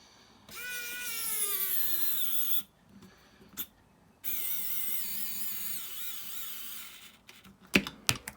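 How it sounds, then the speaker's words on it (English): A battery-powered screwdriver running low on battery, driving screws into a Knight Rider model kit part: two sustained whining motor runs with wavering, sagging pitch, with a short high buzz between them and a few clicks near the end. "My screwdriver is running out of battery, which is why there's a change in the sound of the motor there"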